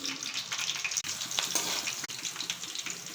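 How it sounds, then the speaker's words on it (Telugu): Green chillies, slit lengthwise, crackle in hot oil, heard as a close, busy sputtering sizzle with sharp pops and a brief pause or two. "ఆయిల్ హీట్ అయిన తర్వాత 3 పచ్చిమిరపకాయలు పొడవుగా కట్ చేసుకొని ఇలా వేసుకోవాలి"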